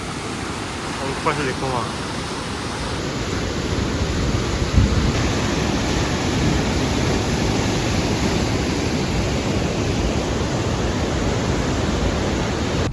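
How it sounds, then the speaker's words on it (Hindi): A fast-flowing waterfall on the Tajikistan–Uzbekistan border roars as a steady, dense rush of water, close and constant throughout, with someone speaking briefly over it early on. "झरने की रफ्तार देखो भाई, तो क्या स्पीड है पानी की।"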